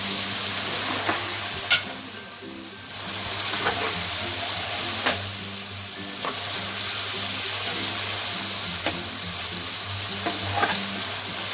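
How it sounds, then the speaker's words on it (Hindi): Chicken pieces frying in ghee in a pan for chicken nihari, a steady loud sizzle with intermittent stirring clatter and scraping throughout, no talking. "अच्छे से हम चिकन को फ्राई कर रहे हैं। ये है घी"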